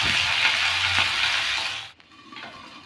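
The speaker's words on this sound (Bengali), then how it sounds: "তেল গরম করে ভেন্ডিগুলো দিয়ে দিলাম।" Okra sizzles loudly in hot oil in a pan, a steady bright crackling hiss that eases off near the end with a scrape of stirring.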